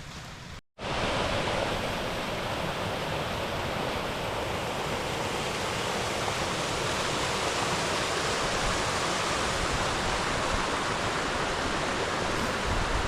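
A small mountain waterfall on Ben Lui pours steadily and loudly without pause, a broad roaring wash after a brief dropout at the start.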